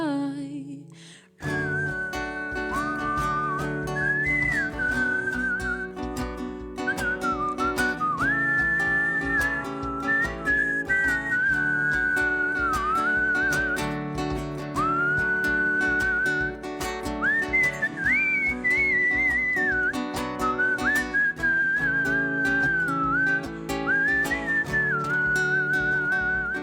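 A person whistles a lively melodic tune alone for nearly half a minute, clear and close, with bending, sliding notes over a backing of steady instrumental accompaniment.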